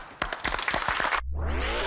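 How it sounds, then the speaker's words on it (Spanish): Brief burst of clapping hands, quick and dense, cut off abruptly by a rising electronic sweep sound. "Esto merece un aplauso."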